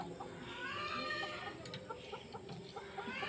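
Several chickens cluck softly and steadily in a closed coop at evening, with occasional sharper squawks rising over a continuous low murmur of fowl.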